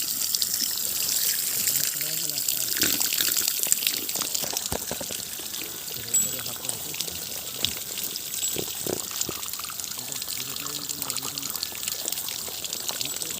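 Water pours steadily from a tap in a continuous hiss, with people talking nearby and a few clatters.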